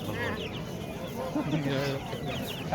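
A flock of 23-day-old black chicks clucks and chirps continuously nearby at a poultry market, with people talking over the birds.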